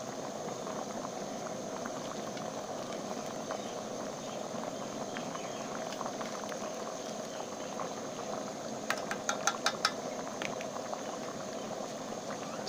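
Sweet zarda rice, roasted first and tinted with zarda colour, simmering in a pot: a steady, soft bubbling hiss throughout, with a few faint light clicks near the end.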